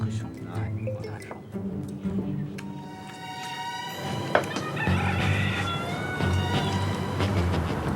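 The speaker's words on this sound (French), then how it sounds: "c'est marrant, les poules et les coqs" Chickens and roosters in Tahiti clucking and crowing nearby, one rooster's crow rising clearly midway, amid background chatter and people talking.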